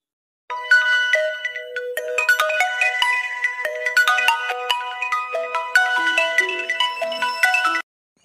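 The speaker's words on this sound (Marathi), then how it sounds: "कोणाचा फोन आला आता?" A mobile phone rings with a bright, melodic electronic ringtone, repeating its chiming tune steadily for several seconds before cutting off, loud and close with no talking.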